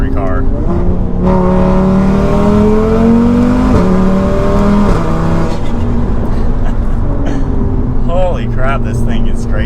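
A built-motor, big-turbo 800 HP Audi RS3 accelerating hard from inside the car, its loud engine note rising in pitch through the gears with brief shift dips, while a voice talks over it.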